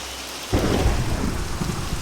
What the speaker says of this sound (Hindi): जल्दी आओ, तूफान आ रहा है।